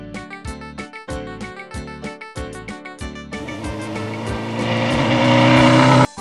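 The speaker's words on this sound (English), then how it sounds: "M for motorcycle." An engine revs steadily in a children's alphabet cartoon, building into a loud, continuous motorcycle roar over the second half after rhythmic musical beats, then cutting off abruptly near the end.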